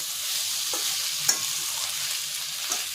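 Mughlai paratha filling with egg sizzles steadily in oil in a pan, with a few scraping stirs of a spatula, close and continuous, and no voices.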